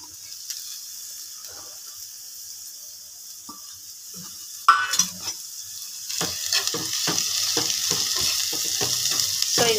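Onion and curry leaves hitting hot oil in a home kitchen pan: quiet at first, then a sudden loud sizzle as they drop in, followed by steady frying hiss with rhythmic stirring scrapes.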